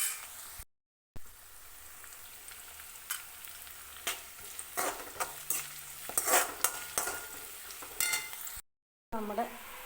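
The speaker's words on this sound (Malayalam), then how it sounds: "നമ്മളിതിലേക്ക് ഇഞ്ചി, വെളുത്തുള്ളി, പച്ചമുളക് നന്നായിട്ട് ഇതൊന്ന് മൂപ്പിച്ചെടുക്കാം" Ginger, garlic and green chilli sauté in hot oil in a pan with a constant close sizzle. Repeated scraping and clinking stir strokes cut through it, with no voices and two brief gaps of silence.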